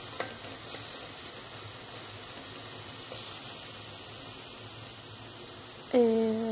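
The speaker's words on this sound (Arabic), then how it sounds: "بشوحها كده لحد ما يبقى لونها ذهبي خفيف، يعني مش عايزاها تتحمر" Food sautés gently in a pan until lightly golden, a soft steady sizzle with faint stirring scrapes throughout, closing with a brief ringing clink of a utensil against the pan.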